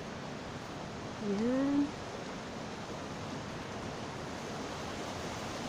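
A creek in a scenic spot at Recoaro flows with a steady, broad wash of running water throughout, close and even, briefly joined by a short spoken word.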